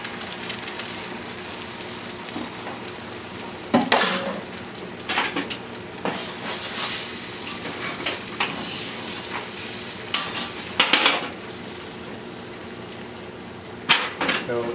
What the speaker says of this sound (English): I'm trying to cook the white of the egg mostly